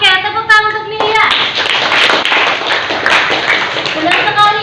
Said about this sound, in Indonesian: tepuk tangan untuk Nidia